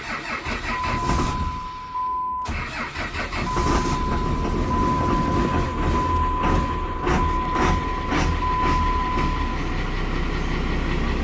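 Cummins diesel truck engine cranking over and catching, then idling steadily with a rough, loud rumble and a thin high electrical whine running through it.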